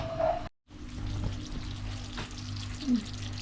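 Sauce simmering in a pan while cooking down until the oil separates, a soft steady bubbling sizzle after a short cut, close and moderately quiet, with no talking.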